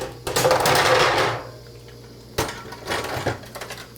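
Dishes clatter and clink in two close bursts as they are washed and stacked into a rack, with a quiet pause between the rattling bouts.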